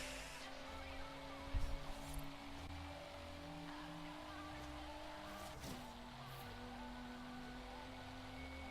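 In Forza Horizon 3, a BMW's engine drones loudly at speed with a steady high tone that shifts as gears change, marked by a brief tire squeal early on and a dip near the end, with no talk over it.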